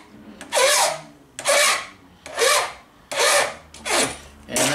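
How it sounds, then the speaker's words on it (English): A hand file is drawn over a brass .38 cartridge case to take down high spots, giving six rhythmic rasping strokes, each a short bright scrape with quiet gaps between. "take the file and slowly trim it down so that it should be as even as possible."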